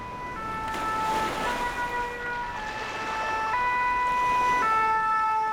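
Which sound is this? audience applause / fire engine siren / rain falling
fire engine siren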